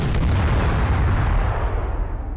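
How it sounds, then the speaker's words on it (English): A huge, loud blast from 97 sticks of dynamite going off at once in the game Astroneer, a single sustained rumbling explosion that slowly fades out. "Pretty awesome looking explosion. Though I wish it would have went more like firecrackers."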